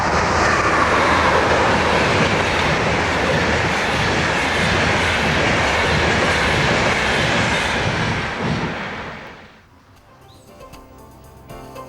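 The Rhine Express train rumbles along as a loud, steady roar that fades out over the last few seconds into near quiet.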